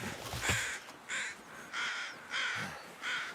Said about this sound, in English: I think I heard a third set of crows.